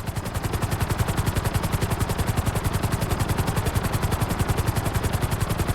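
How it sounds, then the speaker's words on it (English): A helicopter in Grand Theft Auto V flight school thumps with rapid, steady rotor beats, loud and close throughout, with no talk. "To maximize acceleration, keep the nose of the helicopter tipped."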